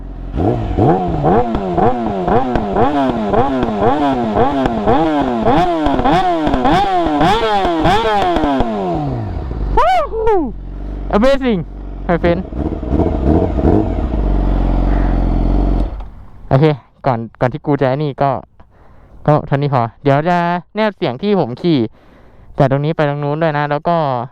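A Yamaha R6 sport motorcycle with an Akrapovic GP exhaust revs hard and close, first rising and falling in rapid throttle blips, then dropping to a rough idle before a series of sharp, crackling revs.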